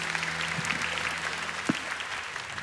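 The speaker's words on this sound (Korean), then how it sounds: "박수로 한 번 더 격려하겠습니다." Church congregation at a Sunday worship service applauding, a soft, steady patter of many hands heard at a moderate distance, with a brief louder knock partway through.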